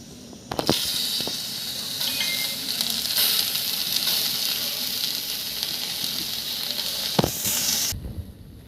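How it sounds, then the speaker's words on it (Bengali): Tomatoes hit a hot pan and sizzle loudly, a steady crackling hiss with a few sharp clatters at the start and end. "খুব গরম হয়ে গেছে আমি এরপর এই টমাটোগুলো নিয়ে ওর মধ্যে দিয়ে দেবো"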